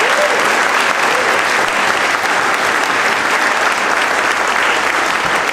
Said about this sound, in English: please give a round of applause to the wait staff for all that they do